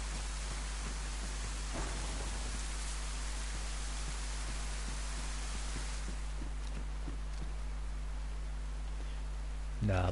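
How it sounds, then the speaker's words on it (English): Rain falling at night in the survival video game DayZ: a steady, dense hiss throughout, with occasional soft thuds and a few footstep-like ticks beneath it. "It's dark and it's raining."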